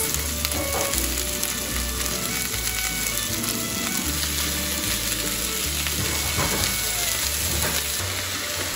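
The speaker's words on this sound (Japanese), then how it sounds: "鮭がこんがり焼けたら、小松菜の茎とブナシメジと舞茸を加えて炒めます。" Steady sizzling of salmon stir-fried in a pan with komatsuna stems, shimeji and maitake mushrooms, with intermittent scraping and stirring of a utensil, close and continuous with no talk.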